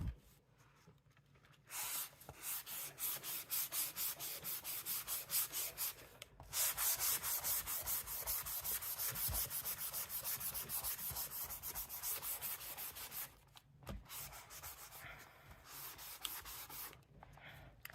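Steady rhythmic rubbing of a sanding block on a surface, in long continuous bursts with brief pauses between strokes, close up.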